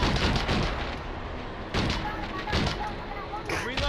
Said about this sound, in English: I just started shooting.